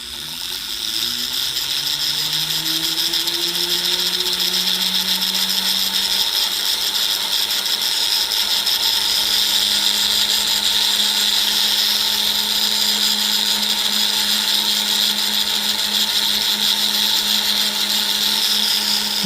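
Polishing wheel buffing deep scratches out of a man's white gold ring, a loud steady motor whine that rises in pitch as it spins up and then holds constant, no talk.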